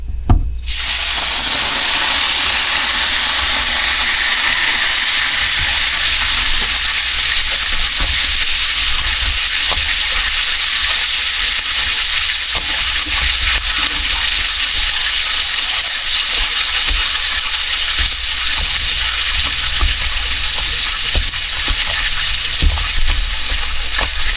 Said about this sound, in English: I'm going to fill up the big can with water